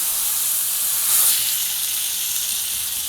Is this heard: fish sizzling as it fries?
yes